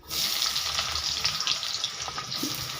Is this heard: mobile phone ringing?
no